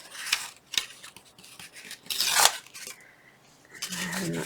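Paper being torn by hand while making a scrapbook page pocket, a few short crackling rips and a longer louder tear up close, with rustles and handling noises between them.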